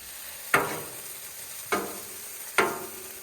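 Chicken and shrimp for fajitas cook on a Blackstone griddle over low heat, heard as a soft steady sizzle broken by three sharp spatula taps or clacks against the flat-top, spaced about a second apart.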